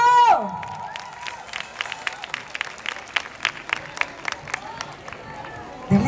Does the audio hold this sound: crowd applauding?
yes